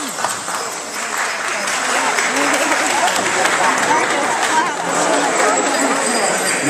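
Sustained audience applause fills a reception hall at a portrait unveiling, a dense steady wash of clapping from a crowd that holds at even loudness throughout, with some voices mixed in.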